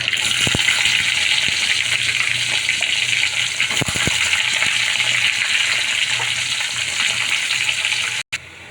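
Onions with garlic frying in hot oil for a curry, a loud, dense, continuous sizzle close by with a few brief knocks, cutting off sharply near the end.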